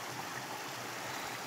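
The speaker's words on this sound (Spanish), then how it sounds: "El arroyo viene por ahí," A mountain stream in Asturias flowing toward a water mill channel, a faint, steady rushing and gurgle that stays constant throughout with no voices.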